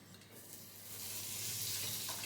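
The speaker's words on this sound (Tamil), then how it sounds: "1 கியூப் பட்டர் எடுத்து உள்ளே போட்டுடலாம், பேனில் போட்டுடலாம்" A cube of butter hitting a hot pan, its quiet hiss swelling into a steady, brighter sizzle over a couple of seconds, near and alone.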